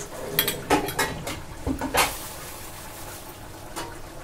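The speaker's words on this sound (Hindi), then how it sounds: "लहसुन लाल मिर्ची धनिया पाउडर ज़ीरा पाउडर राया पाउडर ये पूरों को अच्छे से मिक्स कर देना" Spoon clinks and scrapes against a bowl while garlic, red chilli, coriander, cumin and mustard powders are mixed together, a few sharp close taps and rattles with quieter scraping between.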